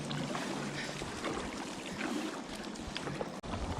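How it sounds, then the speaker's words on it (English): Strong wind buffets the microphone in a steady, loud roar while kayaking on a polluted industrial river, with faint water splashing underneath and a brief dip near the end. "That wind is cranking"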